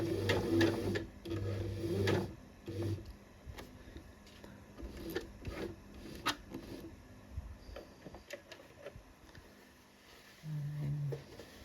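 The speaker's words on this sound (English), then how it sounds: "So up to where the seam splits, and then sew across." A sewing machine stitches the seam of a cami top in several bursts of steady mechanical whirring and ticking, stopping and starting, close and clear in a quiet room.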